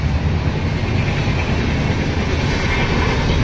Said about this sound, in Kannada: ಈ ಟ್ರೈನ್ ಸೌಂಡ್ಗೆ ಏನೂ ಕೇಳಿಸ್ತಾ ಇಲ್ಲ.